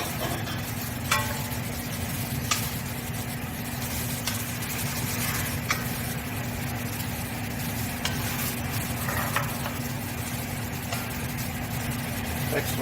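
Seasoned, already-cooked cauliflower is stirred into a sizzling pot of fonio jollof. A steady frying hiss runs throughout, with scattered clinks and scrapes of the spoon.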